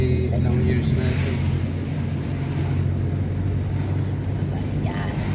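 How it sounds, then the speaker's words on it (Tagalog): A bus rumbles past close by on a street in Rome, a low engine drone with road noise, steady throughout; faint voices sit underneath. "Bus yan. Mga bus dito yan."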